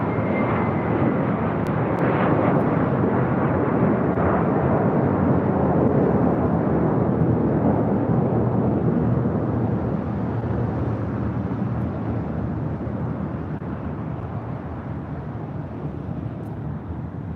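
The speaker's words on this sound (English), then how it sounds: "That was American Airlines Flight 2543 heading to Dallas, Fort Worth, Texas." American Airlines jet, flight 2543 to Dallas, departing LAX: a loud, sustained engine roar that swells early and then slowly fades as it recedes, with no talk over it.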